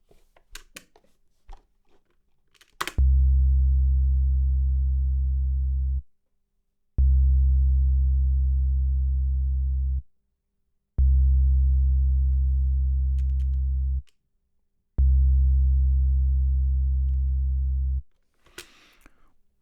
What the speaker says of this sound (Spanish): Escuchamos primero un bajo sintético.